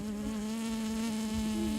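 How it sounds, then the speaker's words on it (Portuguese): Bees buzz around an opened beehive during beekeeping, a loud, close, continuous drone with a steady pitch and slight wavering, and no talking. "não chame a atenção das abelhas"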